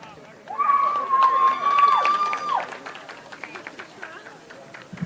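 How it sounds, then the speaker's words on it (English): A stadium crowd at a high school football game at Greenbrier East High School, applauding seniors: sustained, moderately loud clapping and crowd noise for a few seconds, with a sustained whistle or horn-like tone over it, then fading. "Let's give these 5 seniors a round of applause."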